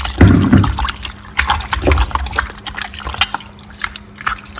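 Water splashes and trickles into a bowl holding cooked snails being washed, close up, with a splashy burst at the start and lighter drips and sloshing after.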